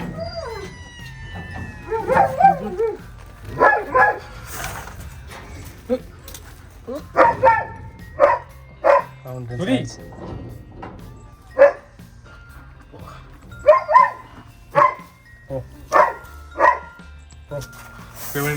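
Several dogs bark and yip in short, loud bursts spaced through the scene, close by, with some whimpering and background talk between barks.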